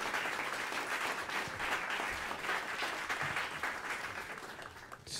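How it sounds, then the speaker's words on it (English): Audience applause in a performance space during a Latin jazz event, steady crowd clapping with light swells, moderately distant and continuing for about five seconds. "How about a big, huge round of applause for the Greene Space?"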